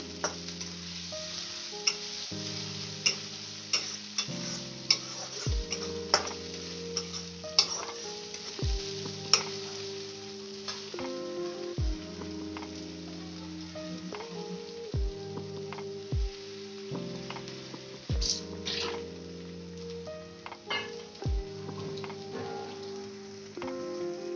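Chopped ginger, garlic and green chili sizzle steadily in a hot pan for dhaba-style baingan bharta, with a utensil clinking and scraping at irregular intervals over the continuous close frying hiss.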